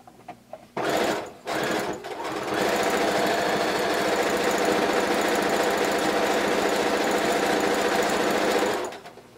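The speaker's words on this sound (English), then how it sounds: "We're using my daughter's sewing machine today" A sewing machine stitching a blanket coat starts after a couple of short bursts, then runs steadily in a fast, even mechanical clatter for several seconds before stopping.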